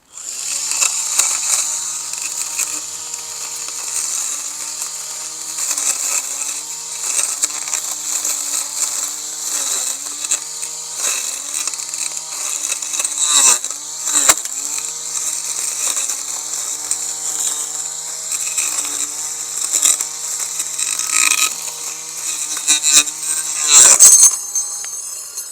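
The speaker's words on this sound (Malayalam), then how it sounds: "ഇനി നമുക്ക് ഗ്രാസ് ഒന്ന് കട്ട് ചെയ്ത് നോക്കാം" Electric grass cutter with a powerful motor cutting small garden grass, a steady high-pitched motor whine running throughout with fluctuating load as the blade hits grass, no talking.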